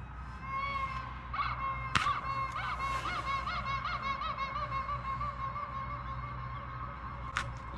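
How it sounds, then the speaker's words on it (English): A squeezed rubber chicken toy squawks in a long, honking, wavering squeal, repeated in quick pulses over several seconds, loud and close against a background rumble at a bike race camp, with a sharp clap or two. "That's a rubber chicken."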